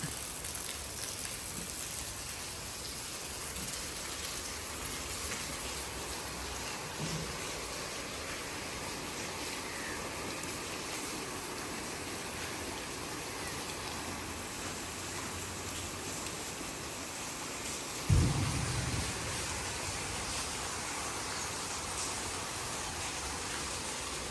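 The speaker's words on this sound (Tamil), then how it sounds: "ஆனால் இப்போ வந்து மழை பெய்யறது ரொம்ப நல்லா இருக்குது." Steady rain falls in a continuous, fairly faint hiss with no voices, broken once by a brief soft knock near the end.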